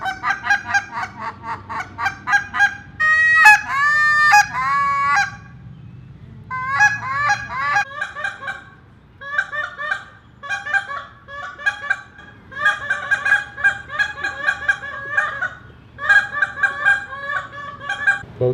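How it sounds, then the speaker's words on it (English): Handheld duck and goose calls blown by many callers warming up at a duck and goose calling competition in northern Indiana, a dense, loud, overlapping stream of honks and quacks in rapid rhythmic bursts with brief gaps. "It's not an invasion of geese or ducks. It's actually a bunch of callers warming up for their chance up on stage."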